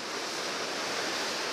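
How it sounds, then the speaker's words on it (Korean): Rough sea waves at Naksan port, a steady, loud wash of surf noise with a windy, broadband hiss throughout. "파도가 너무 심해갖고"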